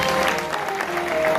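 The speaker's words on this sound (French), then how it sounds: "Monsieur Didier Eva, sous vos chaleureux applaudissements." Dense, warm applause from a crowd at an Air Côte d'Ivoire and Airbus event, a steady wash of many hands clapping together, loud and continuous with a faint tonal hum underneath.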